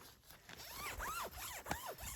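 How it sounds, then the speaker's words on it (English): A zipper on camping gear is pulled in several quick rasping strokes, close and crisp, with short pauses between runs and no talking. "this thing seems to have pretty solid zippers"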